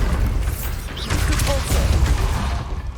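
Bombarda and Confringo spell blasts in the video game Hogwarts Legacy give off a cluster of booming, whooshing impacts and crunching mechanical bursts, loud and close, one after another.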